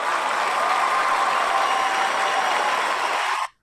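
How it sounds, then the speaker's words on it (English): Canned applause from an applause board, a dense, steady wash of clapping at even loudness for about three and a half seconds before cutting off abruptly. "Pound the applause board."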